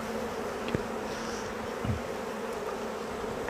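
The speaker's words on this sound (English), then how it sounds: "Any bees that fall, they're all worker bees, so they can just work their way back into the hive." Honey bees buzz steadily during a hive split, a continuous dense drone with a few faint knocks and taps from the hive work.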